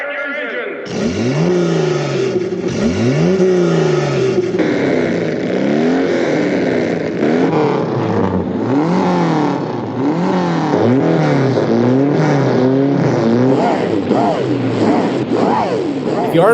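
Race car engines start and rev hard at an auto race in the world of Herbie the Love Bug, loud and continuous, pitch repeatedly sweeping up and down as the cars accelerate, with voices faintly mixed in.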